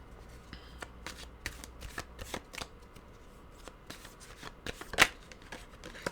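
A deck of tarot cards shuffled by hand, a soft continuous riffling with repeated flicks and one sharper snap near the end, close and quiet with no talking.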